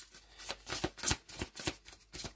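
Tarot cards shuffled for a reading, a close series of rhythmic riffling and slapping pulses with no talk.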